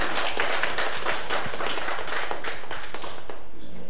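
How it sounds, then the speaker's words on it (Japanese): An audience applauds after a lecture on cancer immunotherapy and genomics, dense continuous clapping at close range that holds steady for several seconds, then begins to thin out at the end. "皆様、今一度大きな拍手をお願いいたします。"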